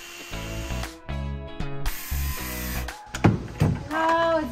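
A cordless power tool cuts through a wooden bucking strip at a house framing site, sounding in several loud, buzzing runs of about a second each with brief gaps, and a voice speaks near the end.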